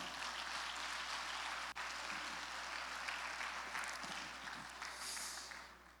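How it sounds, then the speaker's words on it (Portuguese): A church congregation applauds during a sermon, a broad, steady patter of clapping under a low electrical hum that fades slightly toward the end. "Pode aplaudir a Jesus."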